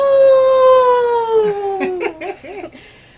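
A human voice imitates a wolf, holding one long, sliding howl that falls in pitch, then breaks into short wavering yelps.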